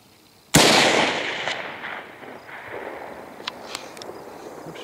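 A single sharp rifle shot during a deer hunt, loud and sudden, followed by a long decaying echo rolling across open ground, with faint outdoor noise afterward.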